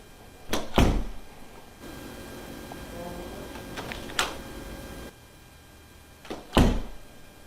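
Knocking inside an empty house: a few sharp thuds in separate clusters, each a quick pair or single hit, over a quiet room hum with long gaps between them.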